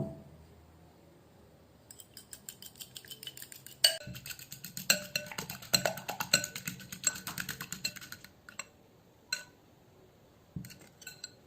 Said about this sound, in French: Je mélange bien les jaunes d'œufs juste avec la fourchette, je les fouette.